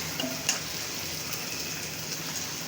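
Garlic fries in a pan for a rohu fish curry with nigella seeds, giving a steady, close hiss of sizzling oil with a faint clink near the start and no voices.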